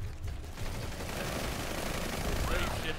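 Dense, distant-sounding automatic gunfire from PlanetSide 2 forms a continuous rattling wash of shots throughout, fairly muffled and steady.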